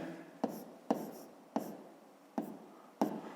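A pen writes down the sides of a triangle in a fifth-grade maths exercise, five quick taps and scratches spaced about half a second apart, close and quiet with no talking.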